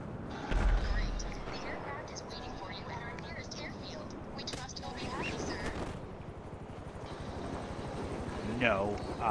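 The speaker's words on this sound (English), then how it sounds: "Oh, I see a helicopter." A helicopter in a video game thrums continuously with a dense rotor rumble under game noise and players talking over it, loud throughout.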